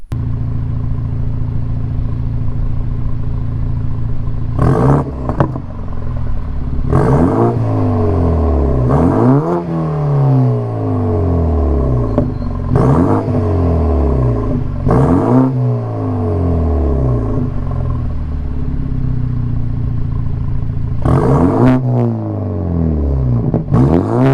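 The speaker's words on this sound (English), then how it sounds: "get some exhaust notes for you guys so you can hear what it sounds like" A BMW 428i with N26 engine and aftermarket VRSF downpipe revs repeatedly through rising gears, its deep raspy exhaust note swelling and dropping with each shift, loud and close throughout.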